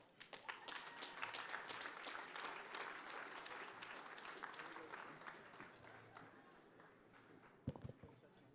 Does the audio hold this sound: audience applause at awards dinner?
yes